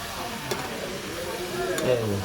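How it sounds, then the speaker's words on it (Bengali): Spiced food sautéing in a pan, a steady soft sizzle with occasional stirring scrapes and a brief clatter, close and moderately loud throughout. "এবার একটু এটাকে কষা কষা করে নেব, একটু ধরে কষা কষা করে নেব, যে একটু ভাজা"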